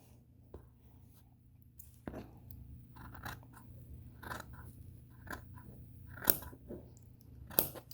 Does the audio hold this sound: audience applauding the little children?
no